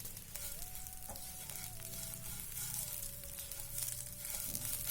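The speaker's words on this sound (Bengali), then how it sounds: "দেখুন কড়াতে নাড়ছি, একটা শব্দ শোনা যাচ্ছে।" Brahmi greens fry in a wok over a lowered flame, giving a steady close sizzle with scraping stir strokes. A faint tone whines in the background throughout.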